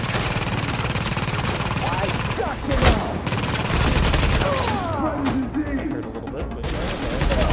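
Rapid gunfire from a strong weapon in the shooter game The Division keeps up continuously, with a heavier thump partway through and someone talking over the shooting.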